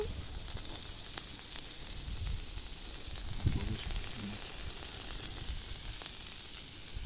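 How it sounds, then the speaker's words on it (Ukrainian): Slices of pork fat (salo) sizzle steadily in a hot pan in a home kitchen, a continuous close crackling hiss with a brief louder spatter midway. "ось сальце кинули"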